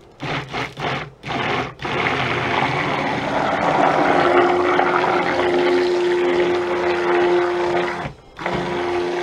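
A stick blender whirs steadily through melted melt-and-pour soap base after a few short bursts, running loud and continuous for several seconds before a brief pause and restart.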